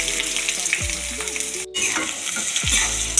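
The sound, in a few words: shallots and green chillies frying in hot oil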